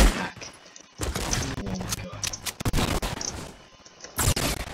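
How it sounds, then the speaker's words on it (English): Gunfire in the video game Fortnite comes as sharp bursts of rapid shots, loud and close, broken by brief pauses across a few seconds. "Look, and I shoot at him."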